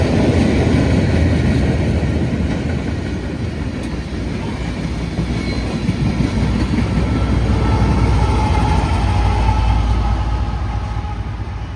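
A mixed freight train rolls by with an SD70ACe locomotive leading and a GE locomotive pushing at the rear, giving a loud, steady rumble and rattle of railcars that runs the whole time with no talking.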